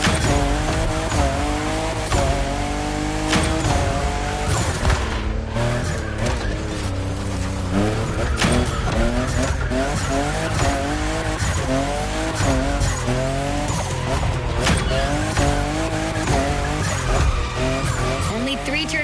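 A fifth-generation Toyota Supra in a racing video game gymkhana run carries a constant engine roar with repeated rising and falling revs and tire squeals from hard drifting, over music-like layers throughout.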